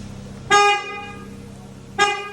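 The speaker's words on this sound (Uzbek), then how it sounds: "unga Pobeda signal qo'yib berganmiz." An aftermarket Pobeda horn fitted to a car sounds two short, loud, bright blasts about one and a half seconds apart over a low idle hum.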